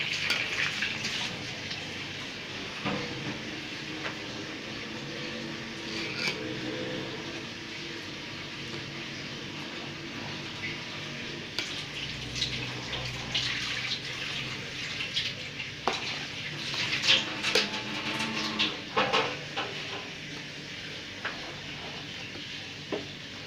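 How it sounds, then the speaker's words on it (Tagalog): Sambal chili oil fries and sizzles in a pan as a spoon scrapes and stirs, with intermittent clinks and bursts of crackling over a steady bubbling hiss. "Halu-haluin lang siya."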